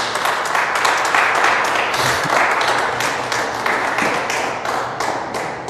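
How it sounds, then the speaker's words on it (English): A church congregation claps in praise, with steady rapid hand claps from many people filling the room, loud and continuous throughout. "Clap your hands and give God some praise."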